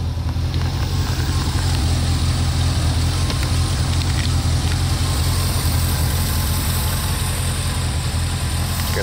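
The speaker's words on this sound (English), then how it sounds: "There's your engine. It's running." A 1981 Corvette C3 engine idling, a loud, steady low rumble with an even, unchanging rhythm heard up close and alone, without talk.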